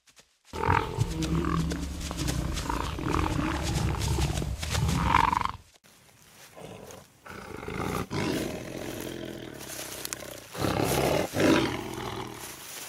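A lioness roars on the Serengeti, a loud, deep, rough call that carries through the opening half, followed by quieter rumbling growls and scuffling sounds with no voices.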